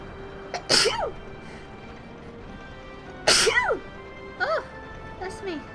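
Two forceful, close sneezes burst out a few seconds apart, each sharp and loud, followed by a couple of short vocal sounds.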